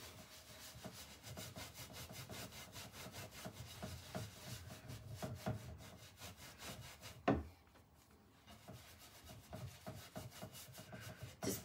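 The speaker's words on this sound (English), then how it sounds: "So I'm just gonna load my brush up with a bit of grey wax" A brush scrubs grey wax into the carved detail of old wooden furniture painted with Silk All-In-One Mineral Paint. It makes a steady, rhythmic run of close, dry rubbing strokes with a brief thump and a short pause partway through.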